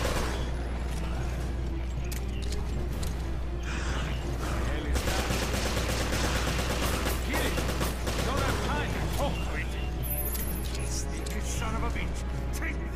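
Gunfire and mechanical clatter from the survival-horror video game Resident Evil Revelations, a dense continuous barrage of shots and impacts under game sound, with a brief spoken line mixed in.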